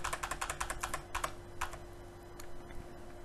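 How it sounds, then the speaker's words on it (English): Computer keyboard keys are tapped in a quick irregular run of soft clicks that thins out toward the end, faint and close over a low steady hum. "But if I use the cursor keys"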